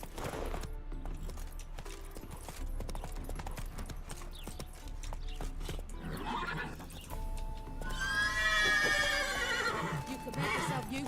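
Roach, a horse in The Witcher 3, gallops with steady clip-clop hoofbeats under game music, then lets out a loud, close whinny near the end; no one talks.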